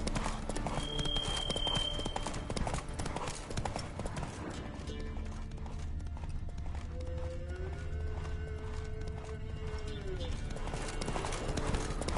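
Geralt's horse Roach in Witcher 3 trots with a steady clip-clop of hooves throughout, rhythmic and close, with game ambience and occasional other sounds layered around it.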